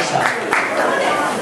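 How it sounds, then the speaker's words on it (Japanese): An auction audience gives a short wash of applause, a steady hiss of many hands at moderate distance, with voices mixed in. "大きな拍手を青木さんにお送りください"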